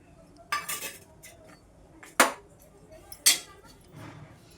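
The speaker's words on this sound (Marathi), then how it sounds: "आता आपण खोबरं भाजूया." Grated coconut being stirred and roasted in a pan over low heat for bhakarwadi, with a few scattered scraping strokes and sharp metallic clinks of the utensil against the pan amid quiet pauses.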